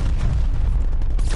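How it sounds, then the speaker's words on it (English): Incoming artillery in the shooter Call of Duty Cold War, a deep rumbling boom with low roaring weight, loud and sustained over the brief moment. "Incoming artillery."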